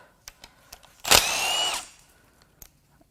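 A power tool zips bolts out of the aluminum-bolted oil pan on a BMW N54 twin-turbo engine during a 335i teardown, giving one loud whirring burst of under a second amid a few faint clicks.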